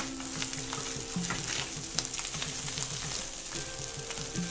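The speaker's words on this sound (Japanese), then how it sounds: "しっかりと炒めて水分を飛ばします。" Spiced keema curry mince is stir-fried to drive off its moisture, giving a steady close sizzle with rhythmic scraping and tapping of a spatula in the pan. No one speaks.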